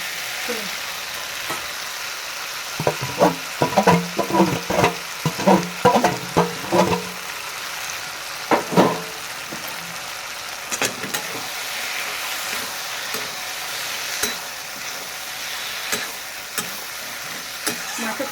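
Bitter gourd frying in fish oil in a pan, with a steady hiss of sizzling and a quick run of spatula scrapes and knocks early on, then quieter occasional stirs over the continuing fry.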